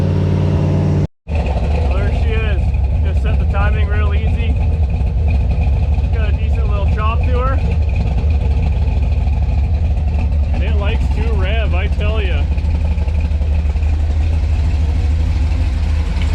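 A big block engine in a 1955 Chevy gasser runs steadily after starting, a loud, continuous low rumble with a brief dropout near the start, while people talk over it throughout.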